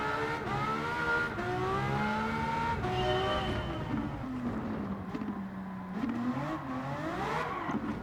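A V12 car fitted with a semi-racing exhaust accelerates hard, its engine note climbing through rising revs with sharp shifts in pitch, loud and close, and wheelspin in fourth gear adding to the screaming, race-car-like howl.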